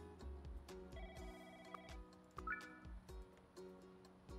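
A telephone rings in the Pets Hotel video game, short chiming tones over light game music and clicks, quiet throughout.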